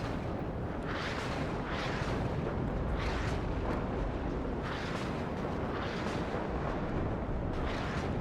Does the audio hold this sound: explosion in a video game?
yes